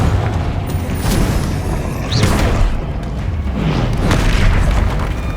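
Confringo explosive spell blasts in Hogwarts Legacy, loud booming bursts that roll over a dense, continuous rumble of combat noise, several impacts spread across the stretch.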